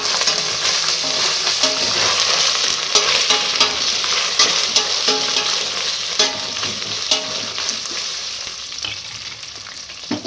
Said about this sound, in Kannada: ಟಮಾಟಿ ವಾಸನೆ ಹೋಗ್ಬೇಕಲ್ರಿ, ಅಲ್ಲಿವರೆಗೂ ಫ್ರೈ ಮಾಡ್ಬೇಕು